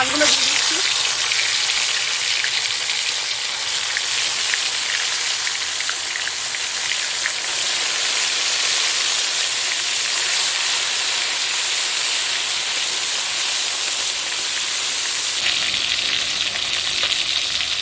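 Fish sizzle and crackle in hot oil in a pan for Bengali cooking, a loud, continuous dense hiss like heavy rain that holds steady throughout with no voices.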